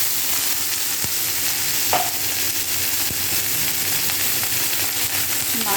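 Washed, chopped mixed leafy greens are stir-fried in a hot pan, with a continuous loud sizzle and a few sharp clacks of the utensil against the pan.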